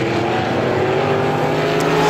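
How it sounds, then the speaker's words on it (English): Race cars on a speedway track at Star Speedway during super heats, a loud sustained engine drone with steady tonal whine, continuous for the whole short stretch. "Now Potter goes to the outside of Seavey down the back straightaway, wheel to wheel for the 4th spot"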